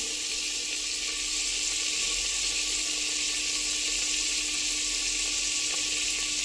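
Cumin seeds sizzle in butter in a hot pan while pav bhaji is cooked, a steady, bright frying hiss that holds for several seconds with no talking.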